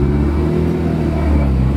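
A Mazda RX-7 FD rotary engine, idle for months, runs with a loud, close, steady low rumble and a slight rise in revs. No talking.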